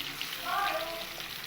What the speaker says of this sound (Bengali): ওই একই তেলের মধ্যে আমি টুকরো করে রাখা আলুগুলোকেও ভেজে নেব